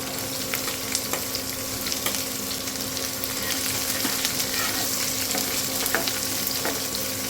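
Chopped onion sautéing in a pan where garlic has already turned golden: a dense, constant close sizzle with occasional clicks of a spatula, loud and even throughout with no voices.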